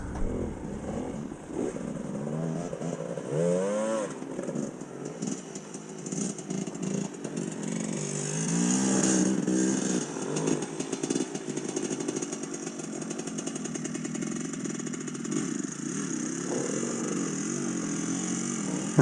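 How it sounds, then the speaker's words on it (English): A GPX TSE 300R dirt bike fitted with an XTNG Gen3 Pro being ridden nearby, its engine buzzing and revving in uneven surges with repeated throttle blips throughout. "I've got Carl Venter having a go on my GPX"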